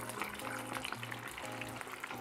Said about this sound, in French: Deuxième friture, on va laisser ça encore environ 3 minutes.